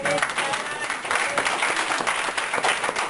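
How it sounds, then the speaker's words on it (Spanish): A church congregation at a Sunday service in Broward claps loudly and continuously, with dense crowd applause and a few voices mixed into the din. "Denle un aplauso al Señor."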